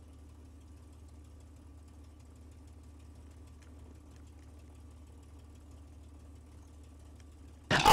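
A P-51 Mustang's piston aircraft engine idles on the ground at an airfield, holding a steady low, rumbling drone throughout, until a sudden loud burst at the very end.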